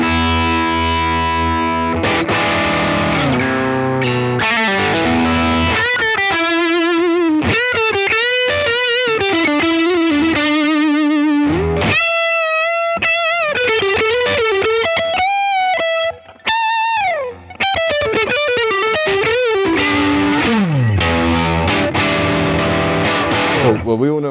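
Electric guitar driven through an AT Plus overdrive pedal: crunchy, compressed chords giving way to fast, sustaining lead runs with vibrato and bends, loud and upfront, briefly dropping out twice before dense riffing resumes.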